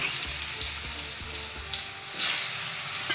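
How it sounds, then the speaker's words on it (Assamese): Turmeric-coated potatoes fry in hot oil with a steady, moderate sizzle, broken by a few soft clinks of stirring. No one speaks over the cooking. "আলুখিনি ফাৰ্ষ্ট টাইম ফ্ৰাই কৰি ল'ম অলপ এনেকৈ"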